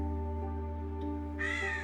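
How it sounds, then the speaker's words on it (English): Crows cawing, with a loud burst of harsh caws near the end over a steady low hum and tonal drone, with no talk. "Something's wrong with those birds."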